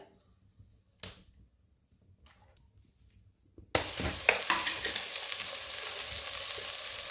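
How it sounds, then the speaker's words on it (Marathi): Chopped onion sautéing in hot oil in a pot on a wood-fired stove: a few quiet clinks and taps, then a sudden loud, steady sizzle that continues to the end. "आता हा कांदा छान परतून घ्यायचा आहे व्यवस्थित शिजवून घ्यायचा आहे कांदा"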